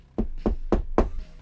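Four evenly spaced knocks on a door, close and moderately loud, each a solid hollow thud in a steady measured rhythm, with no voices.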